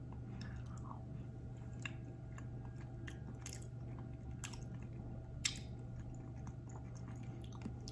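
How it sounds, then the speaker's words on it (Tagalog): Century canned tuna is chewed up close with soft, wet mouth sounds and small clicks, faint over a low steady hum, with no talk. "Tikman muna natin itong Century tuna kung masarap"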